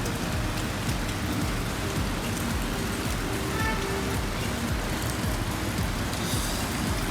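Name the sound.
rain falling in Mumbai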